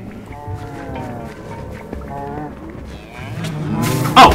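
A mooshroom cow moos in Minecraft Dungeons, several drawn-out lowing calls repeating over game music, with a louder burst near the end.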